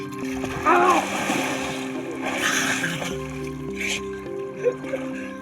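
Water splashes as someone bathes in the Atrai river at a ghat, a few bursts of splashing standing out over a steady low hum and background voices.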